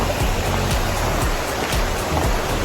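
A river rushes beside the Greenbrier Ridge Trail, a loud, steady broadband hiss of flowing water close by with no voices.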